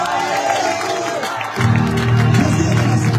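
A church congregation shouts hallelujah with loud acclamations at a revival service, dense crowd voices swelling suddenly partway through into a sustained roar.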